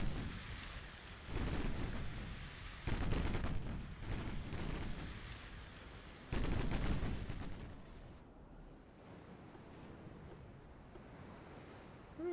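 Heavy naval shell fire in a warship battle game, high-explosive rounds hurled at an enemy vessel: repeated booming salvos in bursts, loud at first and then easing into a duller rumble of distant hits.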